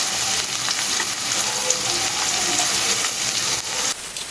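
Onions sizzle and crackle in a pot on the stove, a dense, continuous frying hiss that stays close and steady throughout.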